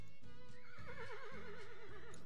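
A horse in the farming game Agricultural Simulator 2013 gives a clear, wavering whinny over rhythmic clip-clop hoofbeats, close and alone.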